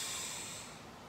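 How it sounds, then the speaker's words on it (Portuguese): A forceful exhale through the nose or mouth during a breathing exercise, a close, breathy hiss that starts strong and slowly fades over about a second, with no talking. "Enche a barriga de ar e expira, expira, expira, expira, expira, expira, expira, expira com força"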